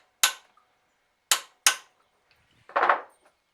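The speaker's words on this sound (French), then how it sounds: "Et tu vas mettre un gros coup de marteau." A hammer strikes a center punch set on a broken screw, giving three sharp metallic hits and then a rougher, longer knock, each loud and close with silence between them.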